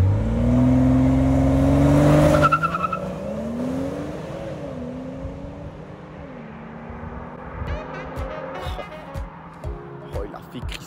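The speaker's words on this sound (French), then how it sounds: "Crisser les pneus comme un vrai puriste du cylindre et de la propu" BMW M240i xDrive using launch control pulls away hard from a standstill, the engine rising loudly through the revs with a brief squeal of the tyres, then settling into a steadier drone as the car accelerates away.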